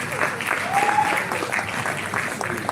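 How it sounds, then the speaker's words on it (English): An audience claps for a poet at a live reading, a sustained, even patter of many hands at moderate loudness, with a brief voice tone rising partway through. "Another round of applause for you"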